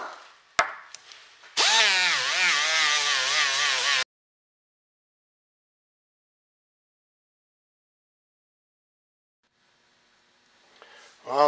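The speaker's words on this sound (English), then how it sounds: "I'm just in the process of doing the final polish on this axe head" An axe head is polished with green polishing compound. After a few sharp clicks, a loud, steady mechanical whine with a wavering pitch runs for about two seconds, then cuts off into silence, with faint noise rising again near the end.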